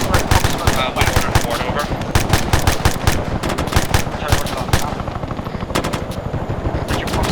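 Rapid rifle and machine-gun fire crackles throughout a military training exercise, dense overlapping bursts of shots, loud and close with some faint voices mixed in.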